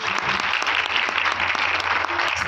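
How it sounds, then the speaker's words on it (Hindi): An audience claps at an arts council award show during a musical performance, giving loud, dense, continuous applause for a couple of seconds. "अगर आपको अच्छा लगे तो आपकी तालियां बजा दीजिए"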